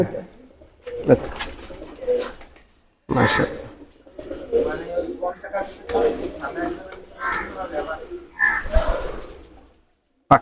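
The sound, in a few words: pigeons cooing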